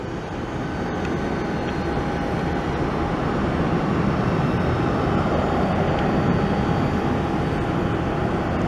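A Southwest Airlines airliner taxis at an airport toward Terminal 1, a steady, loud broadband jet engine roar with a faint whine, continuous and unchanging at fairly close range.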